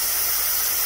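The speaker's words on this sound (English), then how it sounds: "There's a little air leak here at the right here at this regulator." Steady hiss of compressed air escaping from a small leak at the regulator of a 50-ton TOX Pressotechnik C-frame pneumatic press, close and continuous.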